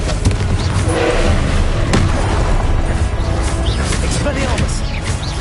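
Confringo fire spell blasts from Hogwarts Legacy, heavy booming explosions and thuds over continuous combat noise, loud and close, with a voice calling out spells throughout.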